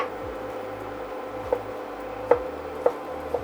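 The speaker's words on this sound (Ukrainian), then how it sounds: "Я буду використовувати печериці. Наріжу їх теж дрібно, для того, щоб обсмажити на пательні." A knife finely chopping champignon mushrooms on a board gives four soft, irregular taps against steady background noise.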